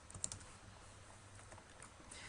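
Quick typing on a computer keyboard gives a short run of soft, faint key clicks over low background hiss.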